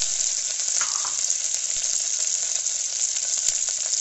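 Green chillies and curry leaves, together with whole spices, sizzle steadily in hot oil for egg pulao, a dense, even crackle with a few louder pops and no voices.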